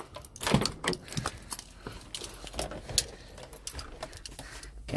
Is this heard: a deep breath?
no